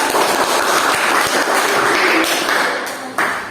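Classroom audience applauding after a group presentation, dense broadband clapping that stays steady and fairly loud for about three seconds before thinning out.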